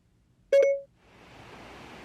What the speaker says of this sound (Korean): 신호음이 들리면 녹화 시작해줘라고 말씀해주세요.